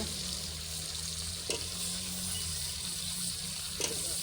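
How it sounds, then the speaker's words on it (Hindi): Chicken and potatoes frying in masala in a pan give a steady, soft sizzle with faint stirring scrapes and a couple of brief knocks, heard close at low volume and with no talking. "ये हो गया चिकन ऐड, अभी मसाले में भुनी दी जा रही है जी।"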